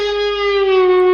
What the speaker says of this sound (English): I pick the string to do a release bend.